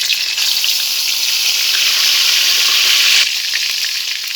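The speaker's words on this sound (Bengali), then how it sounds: "মশলাটা আমার ভালো করে ভাজা হয়ে গেছে।" Ground spice paste of ginger, garlic, dried chilli, cumin and onion fries in hot soybean oil in a wok, a loud steady sizzle that thins slightly near the end.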